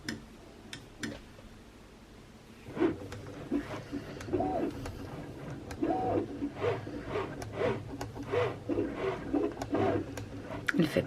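Quiet LOKLIK cutting machine cutting a back-to-school craft design, giving soft rhythmic ticking and whirring movements that start a few seconds in and continue steadily, fairly close and low in level.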